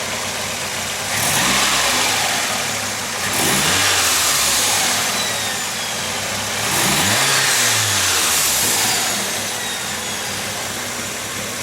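A turbocharged AE86 4A-GZE engine fitted with a K&N air filter idles close up and revs three times, each swell rising and falling back to a throaty idle.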